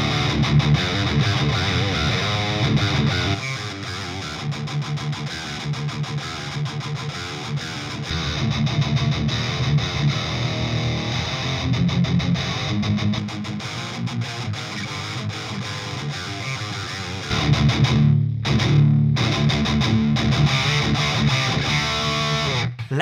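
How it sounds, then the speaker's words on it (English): Harley Benton Fusion III HH HT guitar on its bridge humbucker through a Purple Nightmare amp's lead channel with a TS pedal engaged, playing a loud, heavily distorted riff with chugging chords and brief pauses, alone without talk. "This is the sound of the bridge pickup humbucker."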